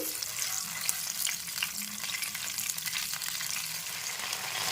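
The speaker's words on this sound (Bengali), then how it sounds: "একদম অল্প পরিমাণে একটু জল মিশিয়ে নেড়ে চেড়ে নিচ্ছি" Cauliflower rezala spice paste with a little water sizzling steadily in a pan while being stirred, a continuous close hiss with faint scraping and no talking.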